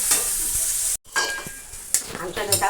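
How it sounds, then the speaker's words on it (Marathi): Egg bhurji with onion, chili, coriander and tomato crackles loudly in a pan, then after a brief gap the sizzle continues under scraping strokes of a spatula as it is stirred. "आणि आता हे बघा बुर्जी करत आहे."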